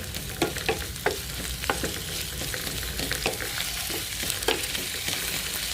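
Sliced potatoes fry in hot oil for a Spanish tortilla de patata, a dense steady sizzle and crackle with occasional scrapes and stirring taps close by, no talking.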